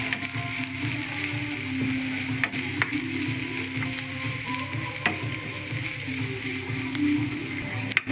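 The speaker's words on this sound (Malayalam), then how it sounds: "സവാള നമുക്ക് നന്നായിട്ട് ഇളക്കി ഒന്ന് റോസ്റ്റ് ചെയ്തെടുക്കാം" Onion with ginger and garlic sizzles steadily in a pan while it roasts for a fish curry, with spoon scrapes and stirring clatter heard up close throughout.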